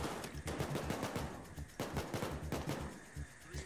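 Rapid automatic gunfire crackles through a Payday 2 bank heist shootout, with dense bursts of shots repeating loudly across the whole stretch.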